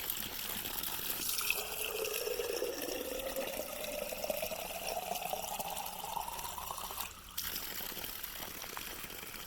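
Well water runs from a tap into a sample container for a home test kit, a soft continuous trickle whose pitch rises as the vessel fills, fairly quiet and with no talking.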